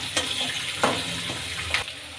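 Curry leaves drop into hot oil for raw mango chitranna, setting off a steady close sizzle punctuated by a few sharper crackling spurts.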